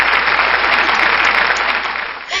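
A round of applause plays during a college math lecture, a thick, even wash of many hands clapping that holds steady and then cuts off abruptly.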